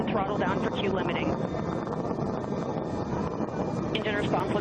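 A Blue Origin rocket engine roars during launch ascent through max dynamic pressure, a dense, continuous broadband rumble heard under crackling radio-style voices calling out the flight.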